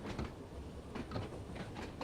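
A train on the Isle of Wight line in Train Sim World 2 runs with faint, rhythmic clicks and rumble from wheels over rail joints, a steady low background.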